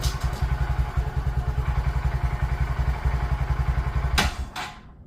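A 2020 Honda Grom motorcycle engine runs in a fast, steady low thumping beat close by, then a couple of clattering knocks, and it cuts off into silence near the end.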